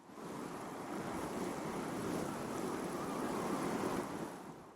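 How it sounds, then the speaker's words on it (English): A steady roaring rush of wind-driven noise swells and holds, then fades slightly at the end, like a blowing sandstorm. "I added this sandstorm,"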